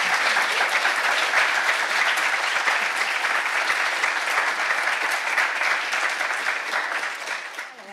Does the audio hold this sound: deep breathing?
no